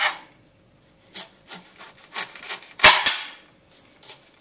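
A knife slices cauliflower thinly on a cutting board, giving a series of short crisp cuts and scrapes at a steady pace, with one sharper, louder chop near the end, close up and with no voices.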